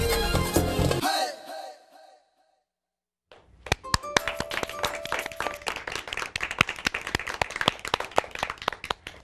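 An audience bursts into dense clapping and cheering after a dance performance at a New York TV show, arriving loud and sustained right after the music cuts off and a short pause.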